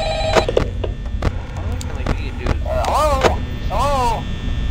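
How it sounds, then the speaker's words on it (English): A phone rings repeatedly in the Five Nights at Freddy's horror game, sharp bursts with a warbling electronic ring tone over a steady mains-like hum, while a voice talks over it. "Pick up the phone!"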